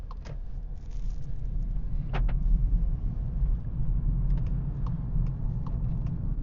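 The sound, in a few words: Seat Ibiza FR automatic car pulling away and driving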